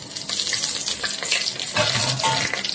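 Whole garam masala fries in hot oil inside a pressure cooker, making a close, busy sizzle full of crackles and pops that keeps going steadily.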